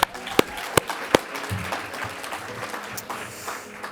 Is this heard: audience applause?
yes